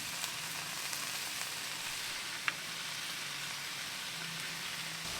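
Onion burger smashed onto a hot SNS Kettle griddle, steady loud sizzling and frying hiss holding evenly throughout, with one faint sharp tick midway.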